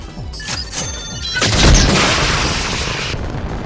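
A rocket from the Anvil launcher in Fortnite fires with a sharp crack, then a loud, booming explosion swells and rumbles for a couple of seconds before fading, with no talking.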